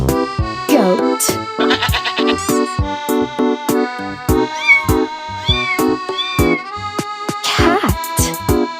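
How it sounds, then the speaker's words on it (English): Cat meowing, a few clear rising and falling cries mixed into a lively children's song, close and prominent among the steady musical beats. "Cat."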